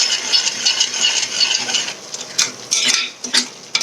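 Tomato gravy being stirred in a pan for a black-eyed pea curry, with repeated metallic scraping and clinking of a spoon against the pan in an irregular rhythm, close and fairly loud, no voices.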